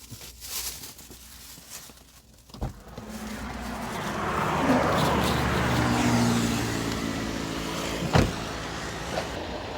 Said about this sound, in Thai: รถผมผมจะจอดไว้ตรงนี้ครับ